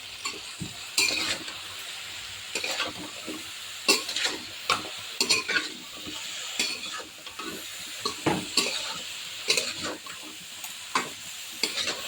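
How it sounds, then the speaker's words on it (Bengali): Vegetables sautéed in a pan, with repeated scraping stirs of a utensil against the pan over a steady sizzle, strokes coming in irregular bursts close by, no voices. "সবজি গুলো সুন্দর করে কষা হয়েছে"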